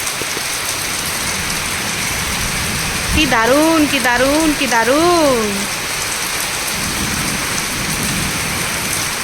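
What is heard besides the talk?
rain falling, with thunder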